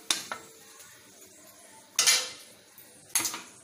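Metal utensil scraping and clanking against a pan as fried cauliflower is lifted out, with three sharp clatters spaced between quieter stretches and no speech.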